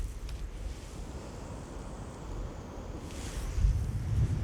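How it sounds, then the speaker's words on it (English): Strong gusty wind buffets the microphone steadily while fishing outdoors, a broad low rumble that swells louder near the end, with no talking. "That's windy."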